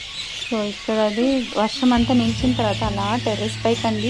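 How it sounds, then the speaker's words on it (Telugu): Many birds call at once from around a rooftop terrace at about five in the evening after rain has stopped, a busy overlapping chorus of chirps and harmonic cries, with someone speaking over it in the foreground. "చూసారు కదా పక్షులు ఎన్ని అరుస్తున్నాయి"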